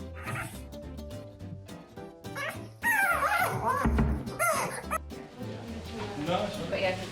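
Food-motivated dog in a kitchen giving whimpers, yips and short barks in scattered bursts, close by and mixed with background music and noise.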